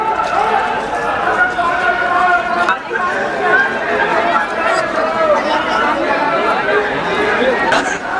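A dense crowd packs a gathering in Lucknow, a steady, loud wash of overlapping voices and chatter with no pauses, close all around and continuing without a break.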